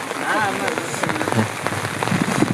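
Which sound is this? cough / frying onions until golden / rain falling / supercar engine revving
rain falling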